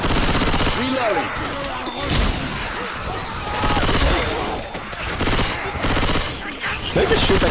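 Dense, rapid gunfire from Left 4 Dead 2 fills the entire stretch, loud and continuous bursts of shots with clattering impacts, while voices speak intermittently over the barrage.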